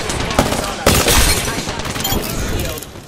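Rapid automatic gunfire in Apex Legends, dense bursts of shots close and loud, with sharp louder cracks punctuating continuous firing and game voice lines mixed underneath.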